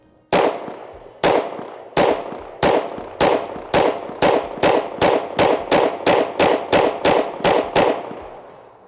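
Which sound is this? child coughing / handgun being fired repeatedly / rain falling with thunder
handgun being fired repeatedly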